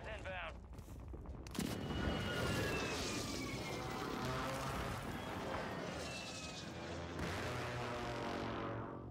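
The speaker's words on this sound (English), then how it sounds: "Who freaking called an airstrike on me?" An airstrike in Call of Duty Warzone Rebirth, with a sharp blast onset followed by sustained loud rumbling explosions and gunfire, a second surge near the end, and a voice speaking over the din.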